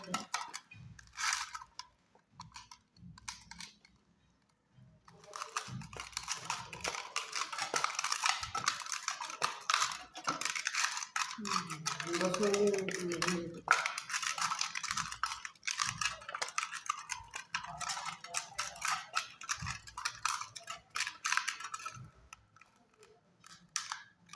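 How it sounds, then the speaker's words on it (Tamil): Fried fish is mixed with masala in a metal vessel, making a steady scraping and clattering of spoon against the vessel that goes on for a long stretch at close range, with short pauses and no voices. "நல்லா கலந்து வச்சு மசாலா உள்ள இறங்க மாதிரி நல்லா மிக்ஸ் பண்ணிடலாம் சார்."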